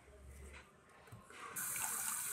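Tap water runs into a sink to wash a stain off, starting softly and then gushing steadily louder as the flow opens up, close by with faint handling noises.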